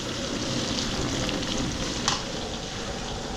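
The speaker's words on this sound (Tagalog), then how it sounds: "ito yung spare ribs natin. Piniprito natin." Steady, dense crackling sizzle of spare ribs frying in hot oil, continuous throughout with a small pop near the end.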